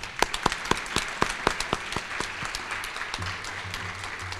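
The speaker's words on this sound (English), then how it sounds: "big round of applause for you guys" At a nursing school white coat ceremony, a few people clap in a steady, distinct rhythm before the claps blur into a softer, scattered round of applause from a small group.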